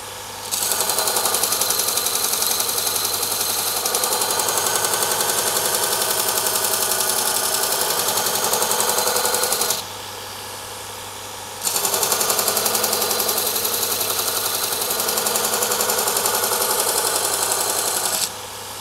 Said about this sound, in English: So as grinding this side, I can feel burr all the way along here.